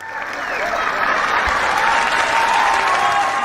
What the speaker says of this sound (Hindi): एक स्टैंडिंग ओवेशन हो जाए